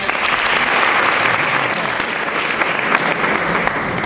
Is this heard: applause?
yes